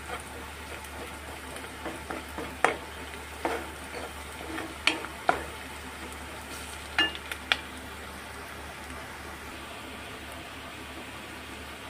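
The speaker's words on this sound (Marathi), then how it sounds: "कांदा, लसूण, कढीपत्ता यामध्ये मस्त असं तडफडतंय" Onion, garlic and curry leaves sizzle in hot oil in a pan, a steady soft crackle broken by occasional spoon scrapes and clinks as the mix is stirred.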